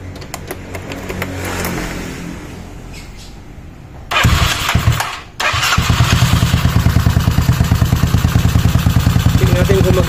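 A Yamaha Mio Soul motor scooter engine cranks, sputters briefly, then catches and settles into a steady, rapid idle close by.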